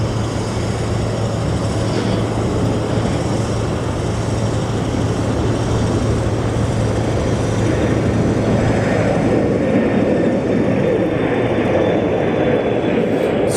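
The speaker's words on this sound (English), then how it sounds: "We watch this Embraer take off." An Embraer jet takes off with a sustained, steady engine roar that holds close and loud throughout, accompanied by a low constant hum and no voices.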